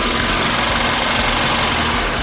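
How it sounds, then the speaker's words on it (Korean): The gasoline engine of a Kia K7 sedan idles with the hood open, a steady, even hum heard up close with no change in pitch and no voices. "영상으로 엔진 소음 한번 담아보도록 하겠습니다"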